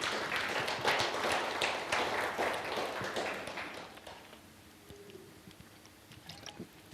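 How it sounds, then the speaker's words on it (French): A church congregation claps in a loose, lively patter that fills the first few seconds and then fades. Only scattered faint sounds remain afterward, and no one speaks. "On peut applaudir le Seigneur quand même, s'il vous plaît."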